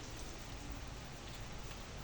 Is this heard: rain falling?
yes